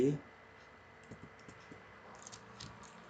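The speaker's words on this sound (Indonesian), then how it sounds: "Kita copy paste saja, Ctrl C dan Ctrl V." Faint, sparse key presses on a computer keyboard during Ctrl C and Ctrl V shortcuts in CorelDRAW, a few light clicks spaced out over a quiet background.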